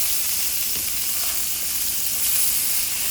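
A smash burger patty sizzles loudly and steadily on a hot griddle after being flipped and pressed flat, a continuous bright frying hiss with no voices.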